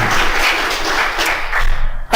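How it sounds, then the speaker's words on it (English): A conference session audience applauds a speaker, a short dense burst of clapping close and loud that cuts off abruptly after about two seconds. "let's have a nice round of applause for Ryan."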